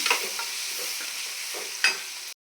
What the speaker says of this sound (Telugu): ఆనియన్ కూడా వేసేసాను ఇవి కూడా మంచిగా ఫ్రై చేసుకోవాలి